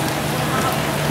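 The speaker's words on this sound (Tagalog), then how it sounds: "It's raining." Steady rain falls on surfaces in Baguio City, a dense, even hiss of drops that holds at a constant level throughout.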